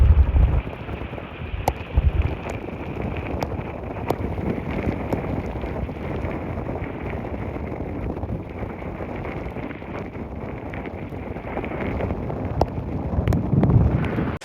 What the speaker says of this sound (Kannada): ಸೊ ನೋಡ್ಬೋದು ನೀವು ಫುಲ್ ಜೋರ್ ಮಳೆ